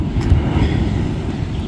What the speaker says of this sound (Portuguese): É só vento, ó. Ventando.